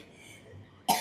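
One short, sharp cough sounds near the end after a quiet stretch, from a person who still has a lingering cough after a recent fever.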